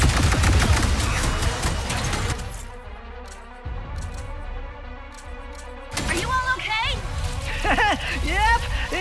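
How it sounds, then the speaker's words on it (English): Rapid weapon fire in the Ratchet & Clank: Rift Apart video game, dense bursts of shots over game music and effects, with voices talking over parts of the action. "Keep firing at the monitors."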